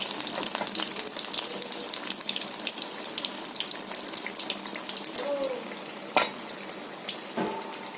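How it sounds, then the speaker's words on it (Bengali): Brinjal flowers fry in hot oil with a steady, dense sizzle that fills the whole stretch, broken by a few sharp clinks and scrapes of a utensil near the end. "ফুলগুলো ভাজা হয়ে গেছে বন্ধুরা, আমি তুলে নিচ্ছি।"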